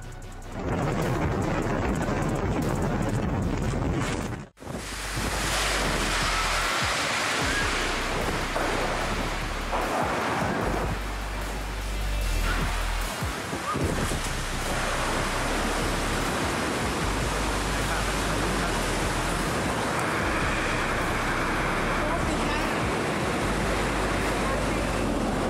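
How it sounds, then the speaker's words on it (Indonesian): Storm wind and crashing waves battering an apartment building during a major storm, a steady roaring wash of broadband noise that continues unbroken, loud and close, after a brief dropout near the start. "Inilah yang terjadi saat tinggal di apartemen ketika badai melanda."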